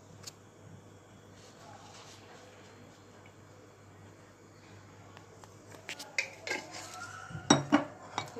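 Spoon stirring a melting mixture sweetened with honey in a pot for cupcakes, soft scraping for most of the stretch, then sharper clinks and knocks of utensil against metal growing louder near the end.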